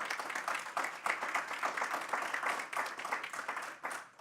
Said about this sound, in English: please help me give a round of applause to our panelists